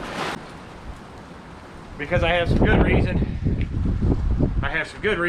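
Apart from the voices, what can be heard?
wind blowing into microphone outdoors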